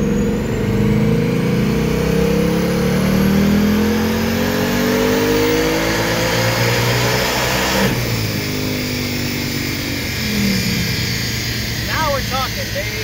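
A 2019 Ford Mustang GT with a Vortech V3 supercharger and the intake removed roars on dyno rollers, revving hard and loud with sustained engine drone, a brief drop near the middle, then building again.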